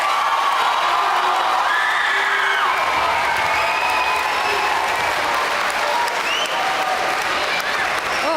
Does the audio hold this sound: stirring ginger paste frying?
no